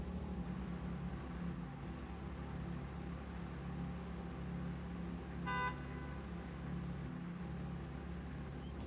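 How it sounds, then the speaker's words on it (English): A video game train horn sounds once as a short, echoing blast midway through, rising briefly above a steady low mechanical hum that runs throughout. "The train horn echoes too."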